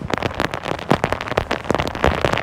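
Rain strikes a phone outdoors during bass fishing, giving dense, irregular, close crackling taps and pops that continue throughout.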